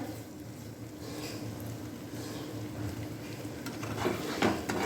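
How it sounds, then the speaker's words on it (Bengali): Prawn kasha being stirred in a pan on a gas stove, a soft continuous scraping and gentle sizzle with faint utensil clinks, close but quiet, with no voices. "ভালো করে নেড়ে চেড়ে এবার নামিয়ে দিতে হবে।"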